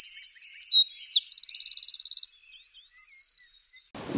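A bird sings a bright, varied song close by outdoors, including a fast rattling trill of rapid repeated notes, then the song fades into a soft rustle.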